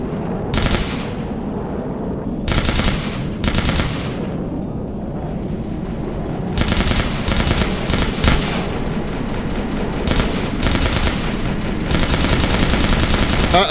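Repeated bursts of machine-gun and cannon fire hammer a player's ship in a naval combat video game set on the 1971 Indian naval front, loud and continuous with sharp volleys recurring throughout.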